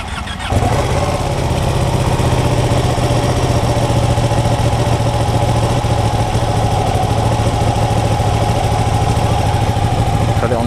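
Ducati 959 Panigale motorcycle engine starting with a brief crank, then settling into a loud, steady, close-up idle with a deep throbbing rumble that holds without revving.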